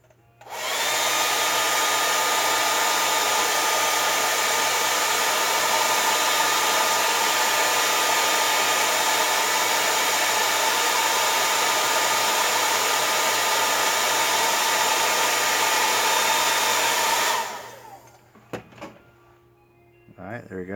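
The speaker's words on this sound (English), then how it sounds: "We're gonna hit this one with the dryer." A hair dryer blows on a freshly painted Funko POP figure, a loud, steady close whoosh lasting about seventeen seconds before it cuts off and leaves faint handling sounds.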